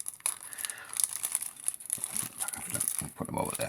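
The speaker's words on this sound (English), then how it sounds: "I'll put them over there, rustling my bag." A plastic bag rustles and crinkles up close in irregular bursts, with someone talking quietly over it.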